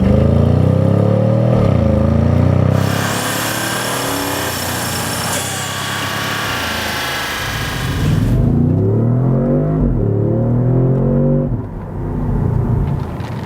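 Exhaust of a 2018 Audi S6 with a V8 engine, a loud close drone that rises and falls through revs, with a sharp higher-pitched whine in the middle and deeper rumbling pulls toward the end.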